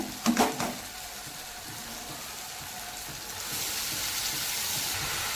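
Spring onion greens being sautéed in a pan with tomatoes for a Tamil kulambu: a sharp clatter as they drop in, then a steady hissing sizzle that swells louder after a few seconds.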